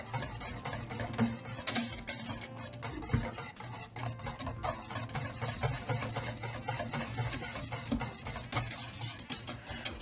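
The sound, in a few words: whisking lemon tart filling over low heat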